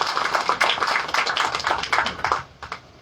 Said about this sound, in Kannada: ನಿಮ್ಮೆಲ್ಲರ ಪರವಾಗಿ ಒಂದು ದೊಡ್ಡ ಚಪ್ಪಾಳೆ ಹೊಂದಿದೆ